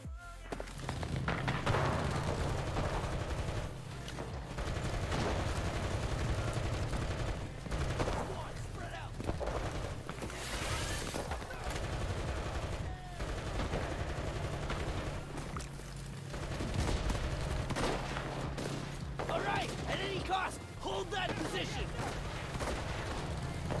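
Dense, continuous gunfire and thudding explosions from a city battle in a bot match, steady and loud throughout with occasional heavier bursts, and a player talking over the action.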